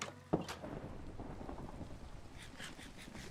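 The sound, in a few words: thunder in a video game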